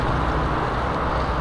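Constant roar of fast highway traffic heard from a nature trail, a steady, loud, unbroken wash of passing cars with no talking.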